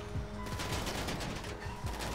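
Rapid bursts of gunfire from the video game GTA V crackle continuously, sounding like a chaotic fusillade of automatic weapons at close range with little pause.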